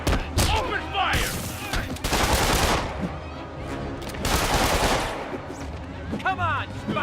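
Criminals open fire with guns in the Spider-Man PS4 video game, rapid bursts of automatic gunfire and shots, loud and dense in a chaotic fight mix with brief character voices.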